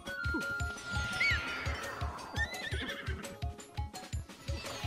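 In Zelda: Breath of the Wild, a horse gives a loud whinny over a steady clip-clop of galloping hooves, with a few faint clinks around it.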